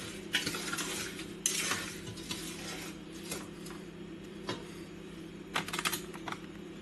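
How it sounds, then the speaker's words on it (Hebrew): A spoon works through homemade plum jam in a pot, giving irregular light scrapes and clicks against the metal over a low, steady hum. "ונמשיך לערבב את הריבת שביפים שלי"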